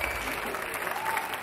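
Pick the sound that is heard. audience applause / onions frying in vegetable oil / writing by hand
audience applause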